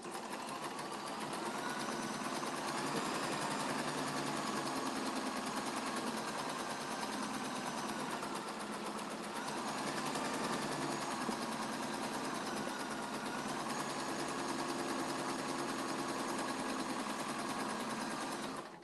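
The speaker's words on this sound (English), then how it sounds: "One more seam and then we'll be done with the 3 squares." A sewing machine sews a quilt block seam joining three squares for a flying star block, running as a continuous, even hum at close range from start to finish with no pauses.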